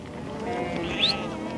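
A sheep or goat bleats once on Peru's high Altiplano grassland, a short, wavering call rising and falling near the end, heard fairly clearly over a soft background.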